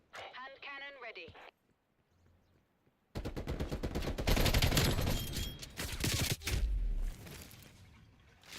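Someone speaks briefly, then after a short lull rapid hand cannon gunfire bursts loudly from the video game Black Ops Cold War, dense repeated shots lasting several seconds with a deep thump near the end.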